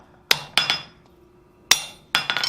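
A hammer striking hot steel while forging flat plate tongs, sharp ringing metallic blows in uneven pairs and clusters, about six strikes, close and loud with a faint hum between them and no talk.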